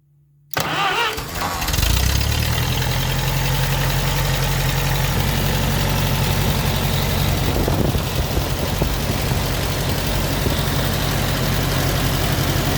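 An old restored tractor engine is cranked over and fires up while sitting in neutral, then settles into a loud, steady low-pitched running rumble close by that continues without pause.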